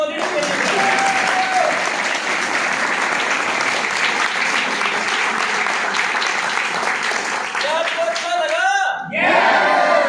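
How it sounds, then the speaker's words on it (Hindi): Loud applause from an audience at a network marketing gathering, dense clapping sustained throughout with some shouts and whoops mixed in, then a brief dip before voices and clapping resume near the end. "जोरदार तालियां।"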